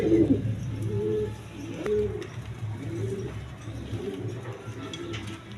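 Black Sirazi Lahori pigeons, a breeding pair, coo softly in a few low, rolling calls against a steady background murmur, with a couple of brighter chirps nearby.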